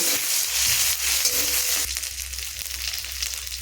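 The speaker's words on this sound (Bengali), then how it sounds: "দিয়ে দিচ্ছি আদা রসুনের বাটা দিয়ে এটার সাথে ভালো করে নাড়াচাড়া করে আদা রসুনটাকেও আমি সুন্দর করে ভেজে নেব" Green chillies and ginger-garlic paste fry in a pan with a steady, close sizzle and the scrape of stirring, the hiss easing slightly partway through; no one speaks.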